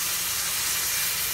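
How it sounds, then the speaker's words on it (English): Garlic, bell peppers and onions cook in a pot for okra and shrimp creole, giving off a steady, close, continuous sizzling hiss. "we also have the garlic, bell peppers, and onions going on"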